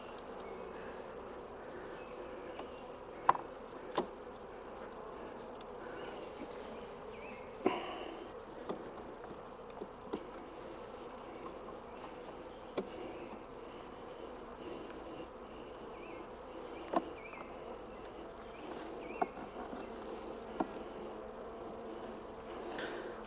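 A steady, close hum of honey bees buzzing at the hive, continuous throughout, with a few faint clicks and taps from hive handling and no voices.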